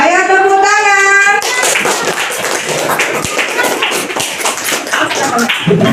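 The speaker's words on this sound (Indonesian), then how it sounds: "Ayo tepuk tangan." Children in a classroom clap their hands together in a dense, lively burst of taps that fills most of the stretch, following a brief sung or sustained voice at the start.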